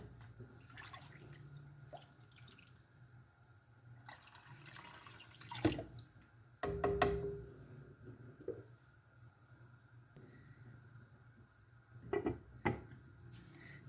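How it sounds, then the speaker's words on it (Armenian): Cold tap water pours into a pot of hot soup on the stove, in a few splashy bursts amid kitchen clatter and quieter gaps, close and moderately loud. "նորից ջուր լցնեմ, մի փոքր ջուր լցնեմ, ջուրը լցնում եմ սառը վիճակում"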